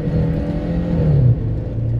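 A Nissan March drives off on a test run after new spark plugs and silicone ignition wires were fitted. The engine hums close and steady, rising into a brief rev before settling back.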